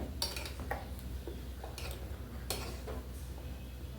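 A spoon scrapes and taps against a bowl while moong dal dosa batter is stirred together with spices, giving a few soft, irregular clinks and scrapes over a quiet room.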